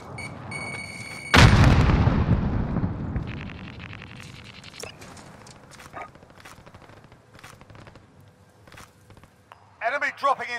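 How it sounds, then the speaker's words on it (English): A precision airstrike in Call of Duty: Modern Warfare lands as one sudden, heavy blast that rolls off into a long, fading rumble, followed by scattered distant pops and a brief radio-like voice near the end. "Be advised, friendly precision airstrike inbound."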